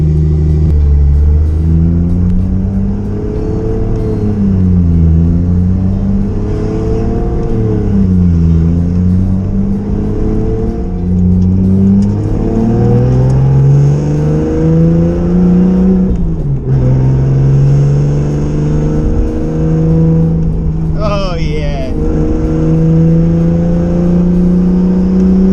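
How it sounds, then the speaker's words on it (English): A restored MKIV Toyota Supra is driven while its new rotors and pads are bedded in; the engine drones loud and close, rising and falling through repeated accelerations and slowdowns, with no talk. "So we're gonna see how the car drives, but I need to bed these rotors and pads together."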